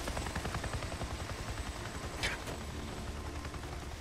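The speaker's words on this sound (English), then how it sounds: "whoever's piloting that helicopter would have seen me" In the video game Days Gone, a helicopter passes overhead with a rhythmic rotor thumping that stays loud and steady throughout, joined by a brief sharp burst partway through.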